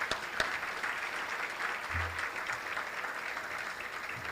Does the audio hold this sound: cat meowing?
no